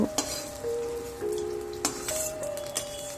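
Potatoes and panch phoron frying in mustard oil give a steady close sizzle with faint crackles, punctuated by a few sharp clicks of a spoon against the pan.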